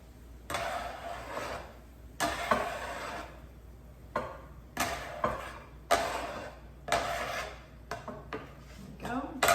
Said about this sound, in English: the sausage is going back in the pan